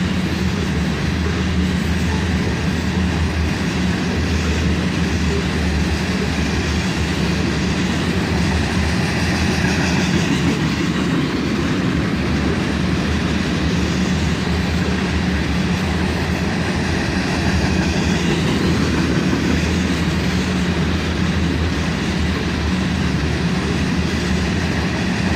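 Autorack freight train of mostly empty cars rolling out of a siding near Carlisle, a loud continuous rumble and clatter of wheels on rails held steady and close throughout.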